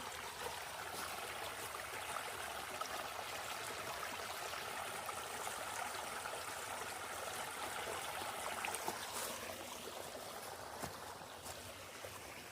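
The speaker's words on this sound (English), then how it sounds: "Found another little waterfall here." A small waterfall and shaded creek along a hiking trail in humid summer heat produce a steady, close wash of rushing and trickling water that stays even throughout with no talking.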